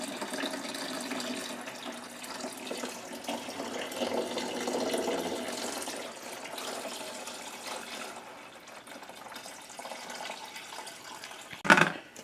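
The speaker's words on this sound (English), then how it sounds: "You pour it in the water." Water pours steadily into a coffee maker's reservoir, a running, trickling stream that gradually shifts in tone, ending with a short clunk.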